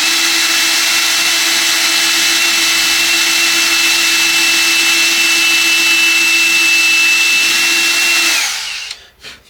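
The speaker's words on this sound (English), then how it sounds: "I'm actually using the drill on a low RPM as well" A power drill whirs steadily at a constant low pitch for several seconds, close and loud, then spins down and stops.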